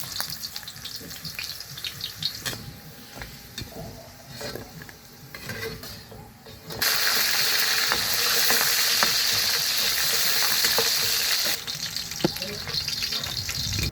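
Carrots and potatoes frying in oil for kaldereta give a crackling sizzle with occasional utensil clinks; the frying surges much louder halfway through and stays strong, with a voice faintly present at times.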